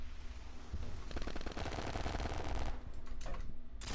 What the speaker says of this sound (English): somebody already shooting me there